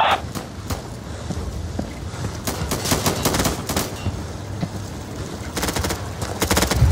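Gunfire in the video game Insurgency, rapid bursts of automatic shots and scattered single cracks, loud and dense throughout with footstep-like clatter in between.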